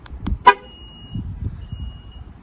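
A 2022 Alfa Romeo Stelvio locks with a short horn chirp preceded by faint clicks, followed by quiet mechanical whirring.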